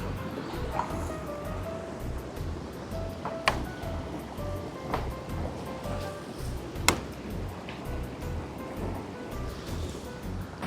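A Sri Lankan waterfall sends up a continuous broad rush of falling water at moderate distance, with a few faint clicks and knocks over the steady roar.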